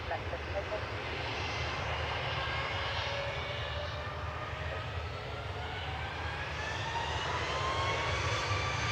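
Jet airliner engines at Manchester Airport, including a Vueling departure bound for Barcelona, roar steadily and loudly throughout, with a whine that slowly climbs in pitch and faint voices underneath.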